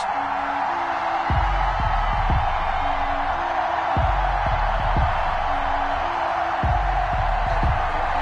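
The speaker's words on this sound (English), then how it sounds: "This crowd is ready as their guys get set to match up between the Pittsburgh Steelers and the Buffalo Bills." A packed stadium crowd before a Pittsburgh Steelers vs Buffalo Bills NFL game makes a constant distant roar, with recurring tonal sounds layered over it throughout.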